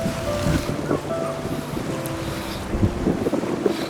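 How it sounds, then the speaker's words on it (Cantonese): Big ocean waves and gusty wind at the seaside make a continuous loud rumble and roar, with wind buffeting the microphone and occasional surges of surf. "好大浪呢喎嗰邊。"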